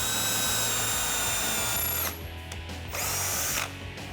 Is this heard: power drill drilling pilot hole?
yes